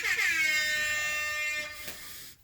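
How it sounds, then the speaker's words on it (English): Air horn blares once, loud and close. The steady blast holds for about two seconds, then cuts off abruptly. "Thanks to my fiance for the horn noises that we just heard"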